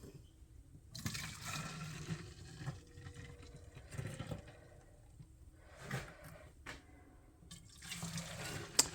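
Water poured into a container to mix powdered lamb milk formula, a quiet splashing trickle with a few louder bursts and clinks scattered across the clip, and no speech.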